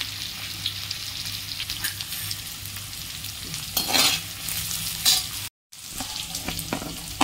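Onion sautéing in oil in a pan crackles loudly and close by, with scraping stir strokes and bursts of louder sizzle, and it cuts out for a moment near the end.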